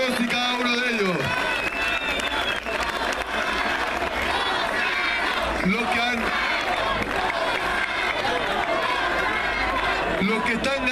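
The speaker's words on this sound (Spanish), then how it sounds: "les quiero pedir un aplauso para todos los que han sido candidatos a concejal" Loud crowd at a political event honoring municipal council candidates in Renca, Chile, with continuous clapping and cheering blended with shouting voices and chatter, steady and close throughout.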